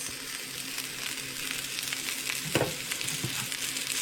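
Shallots fry in a few spoonfuls of extra virgin olive oil, giving a steady close sizzle with a brief louder crackle and scrape midway as they are stirred.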